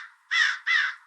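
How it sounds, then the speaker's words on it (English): Crows cawing outdoors: two loud, harsh caws in quick succession, clear and alone, with nothing else audible. "and get ready for the crows"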